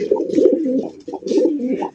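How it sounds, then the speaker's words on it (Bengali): A large racer pigeon at a bird market coos close by in two rounded, throaty bursts with a short pause between them, with no talk over it. "এখানে হচ্ছে আরো একজন রেসার কবুতর দেখতে পাচ্ছেন"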